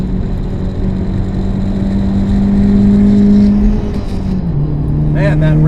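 A modified Hyundai Genesis Coupe 2.0T engine revs up to a steady, sustained drone and then hangs before the pitch slowly drops. It sounds loud and close from inside the cabin, and the note holds high for a moment before falling.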